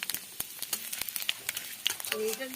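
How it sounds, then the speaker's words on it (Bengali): Dried chillies, bay leaf and panch phoron sizzle in oil for lau shak chorchori, faint and close, with scattered sharp crackles and pops over a soft hiss. "তেলের মধ্যে আমি ফোড়ন দিয়ে দিলাম দুটো শুকনো লঙ্কা, তেজপাতা আর পাঁচফোড়ন।"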